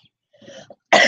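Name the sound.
woman coughing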